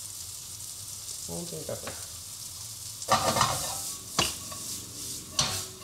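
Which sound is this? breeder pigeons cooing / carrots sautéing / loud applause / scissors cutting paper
carrots sautéing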